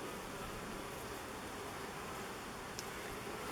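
Honey bees buzzing inside a hive box while they festoon and build comb, a dense continuous hum that stays steady and fairly loud throughout, with no voices.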